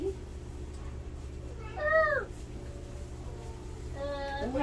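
A house cat meows indoors, two clear drawn-out meows a couple of seconds apart over a low steady hum, fairly close and moderately loud.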